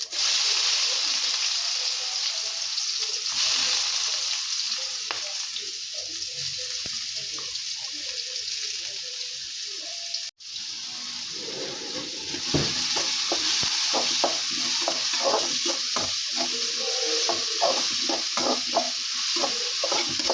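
Onions frying in a pan after mustard seeds have popped, cooked until golden brown: a loud, continuous sizzle with steady stirring scrapes throughout, and a brief dip partway through.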